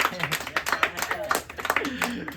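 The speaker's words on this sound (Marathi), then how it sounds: "टाळ्या वाजवा" A few people clapping at a home cake-cutting celebration, irregular handclaps mixed under lively overlapping talk and voices close by.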